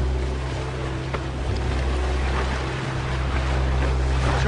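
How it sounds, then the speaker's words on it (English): Rough, confused sea where ocean waves strike close to land, heard from aboard a boat: a steady broadband wash of water and wind with a low rumbling hull or engine drone throughout, no voices. "The ocean striking a landmass can produce a short, confused seaway."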